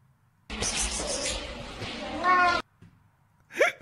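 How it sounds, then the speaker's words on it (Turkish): A cat lets out an agitated, drawn-out meow lasting about two seconds, rising into a strained wail near its end, followed after a pause by a short sharp yowl. "Sana ne lan diyen kedi?"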